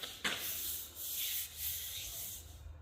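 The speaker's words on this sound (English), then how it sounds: "I ran the sander around where I saw spatter and stuff" A sander works over steel in car-wash canopy and bar-grating fabrication, grinding off weld spatter in a close, steady hissing rasp with a few surges and brief lulls as it moves across the metal.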